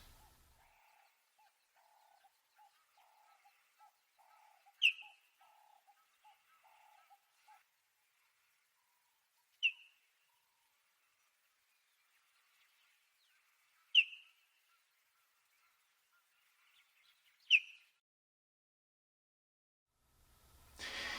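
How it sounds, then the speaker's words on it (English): Four short, sharp chirping calls from a cheetah calling its cubs in Kenya, spaced several seconds apart, bird-like and fairly clear, with faint soft pulses early on and quiet gaps between. "The cheetah sounds like a bird. In this particular case, it's probably calling its cubs."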